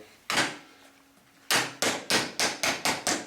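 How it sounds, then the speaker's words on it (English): Metal wheel caps are hammered onto the wheels of a hydraulic pull wagon: one sharp blow, a pause, then six quick, evenly spaced hammer strikes, close and loud with no talking. "Hammer them home."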